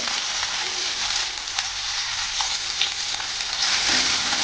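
Sliced onion and green chilies fry in hot oil in a pan with a steady, bright close sizzle, a few light crackles and pops, and no talk.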